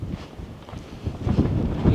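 Strong wind at Kababad, Bahrain buffets the microphone in low, rumbling gusts that grow louder toward the end, with no one speaking.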